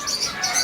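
Small aviary birds chirp in quick, high twittering bursts while being fed vegetables, a brief busy flurry of calls heard fairly close over a soft background hiss.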